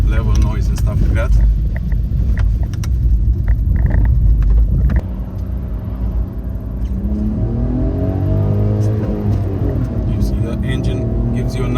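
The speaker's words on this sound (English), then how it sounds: "Engine gives you a nice sound." Engine of a 2023 Fiat 500 small city car while driving on the road, a loud low rumble with a revving rise in the first half before it settles to a quieter steady hum, with a voice talking over it.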